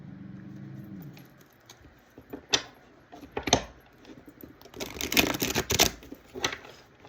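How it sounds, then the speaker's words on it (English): Tarot cards are shuffled by hand, with scattered papery riffles and slaps that grow into a denser burst of shuffling toward the end, close and fairly quiet. "you're just hearing me with the cards."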